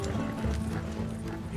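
Horse hooves clop in a steady galloping rhythm in Red Dead Redemption 2, close and continuous over a low rumble of movement and ambient game sound.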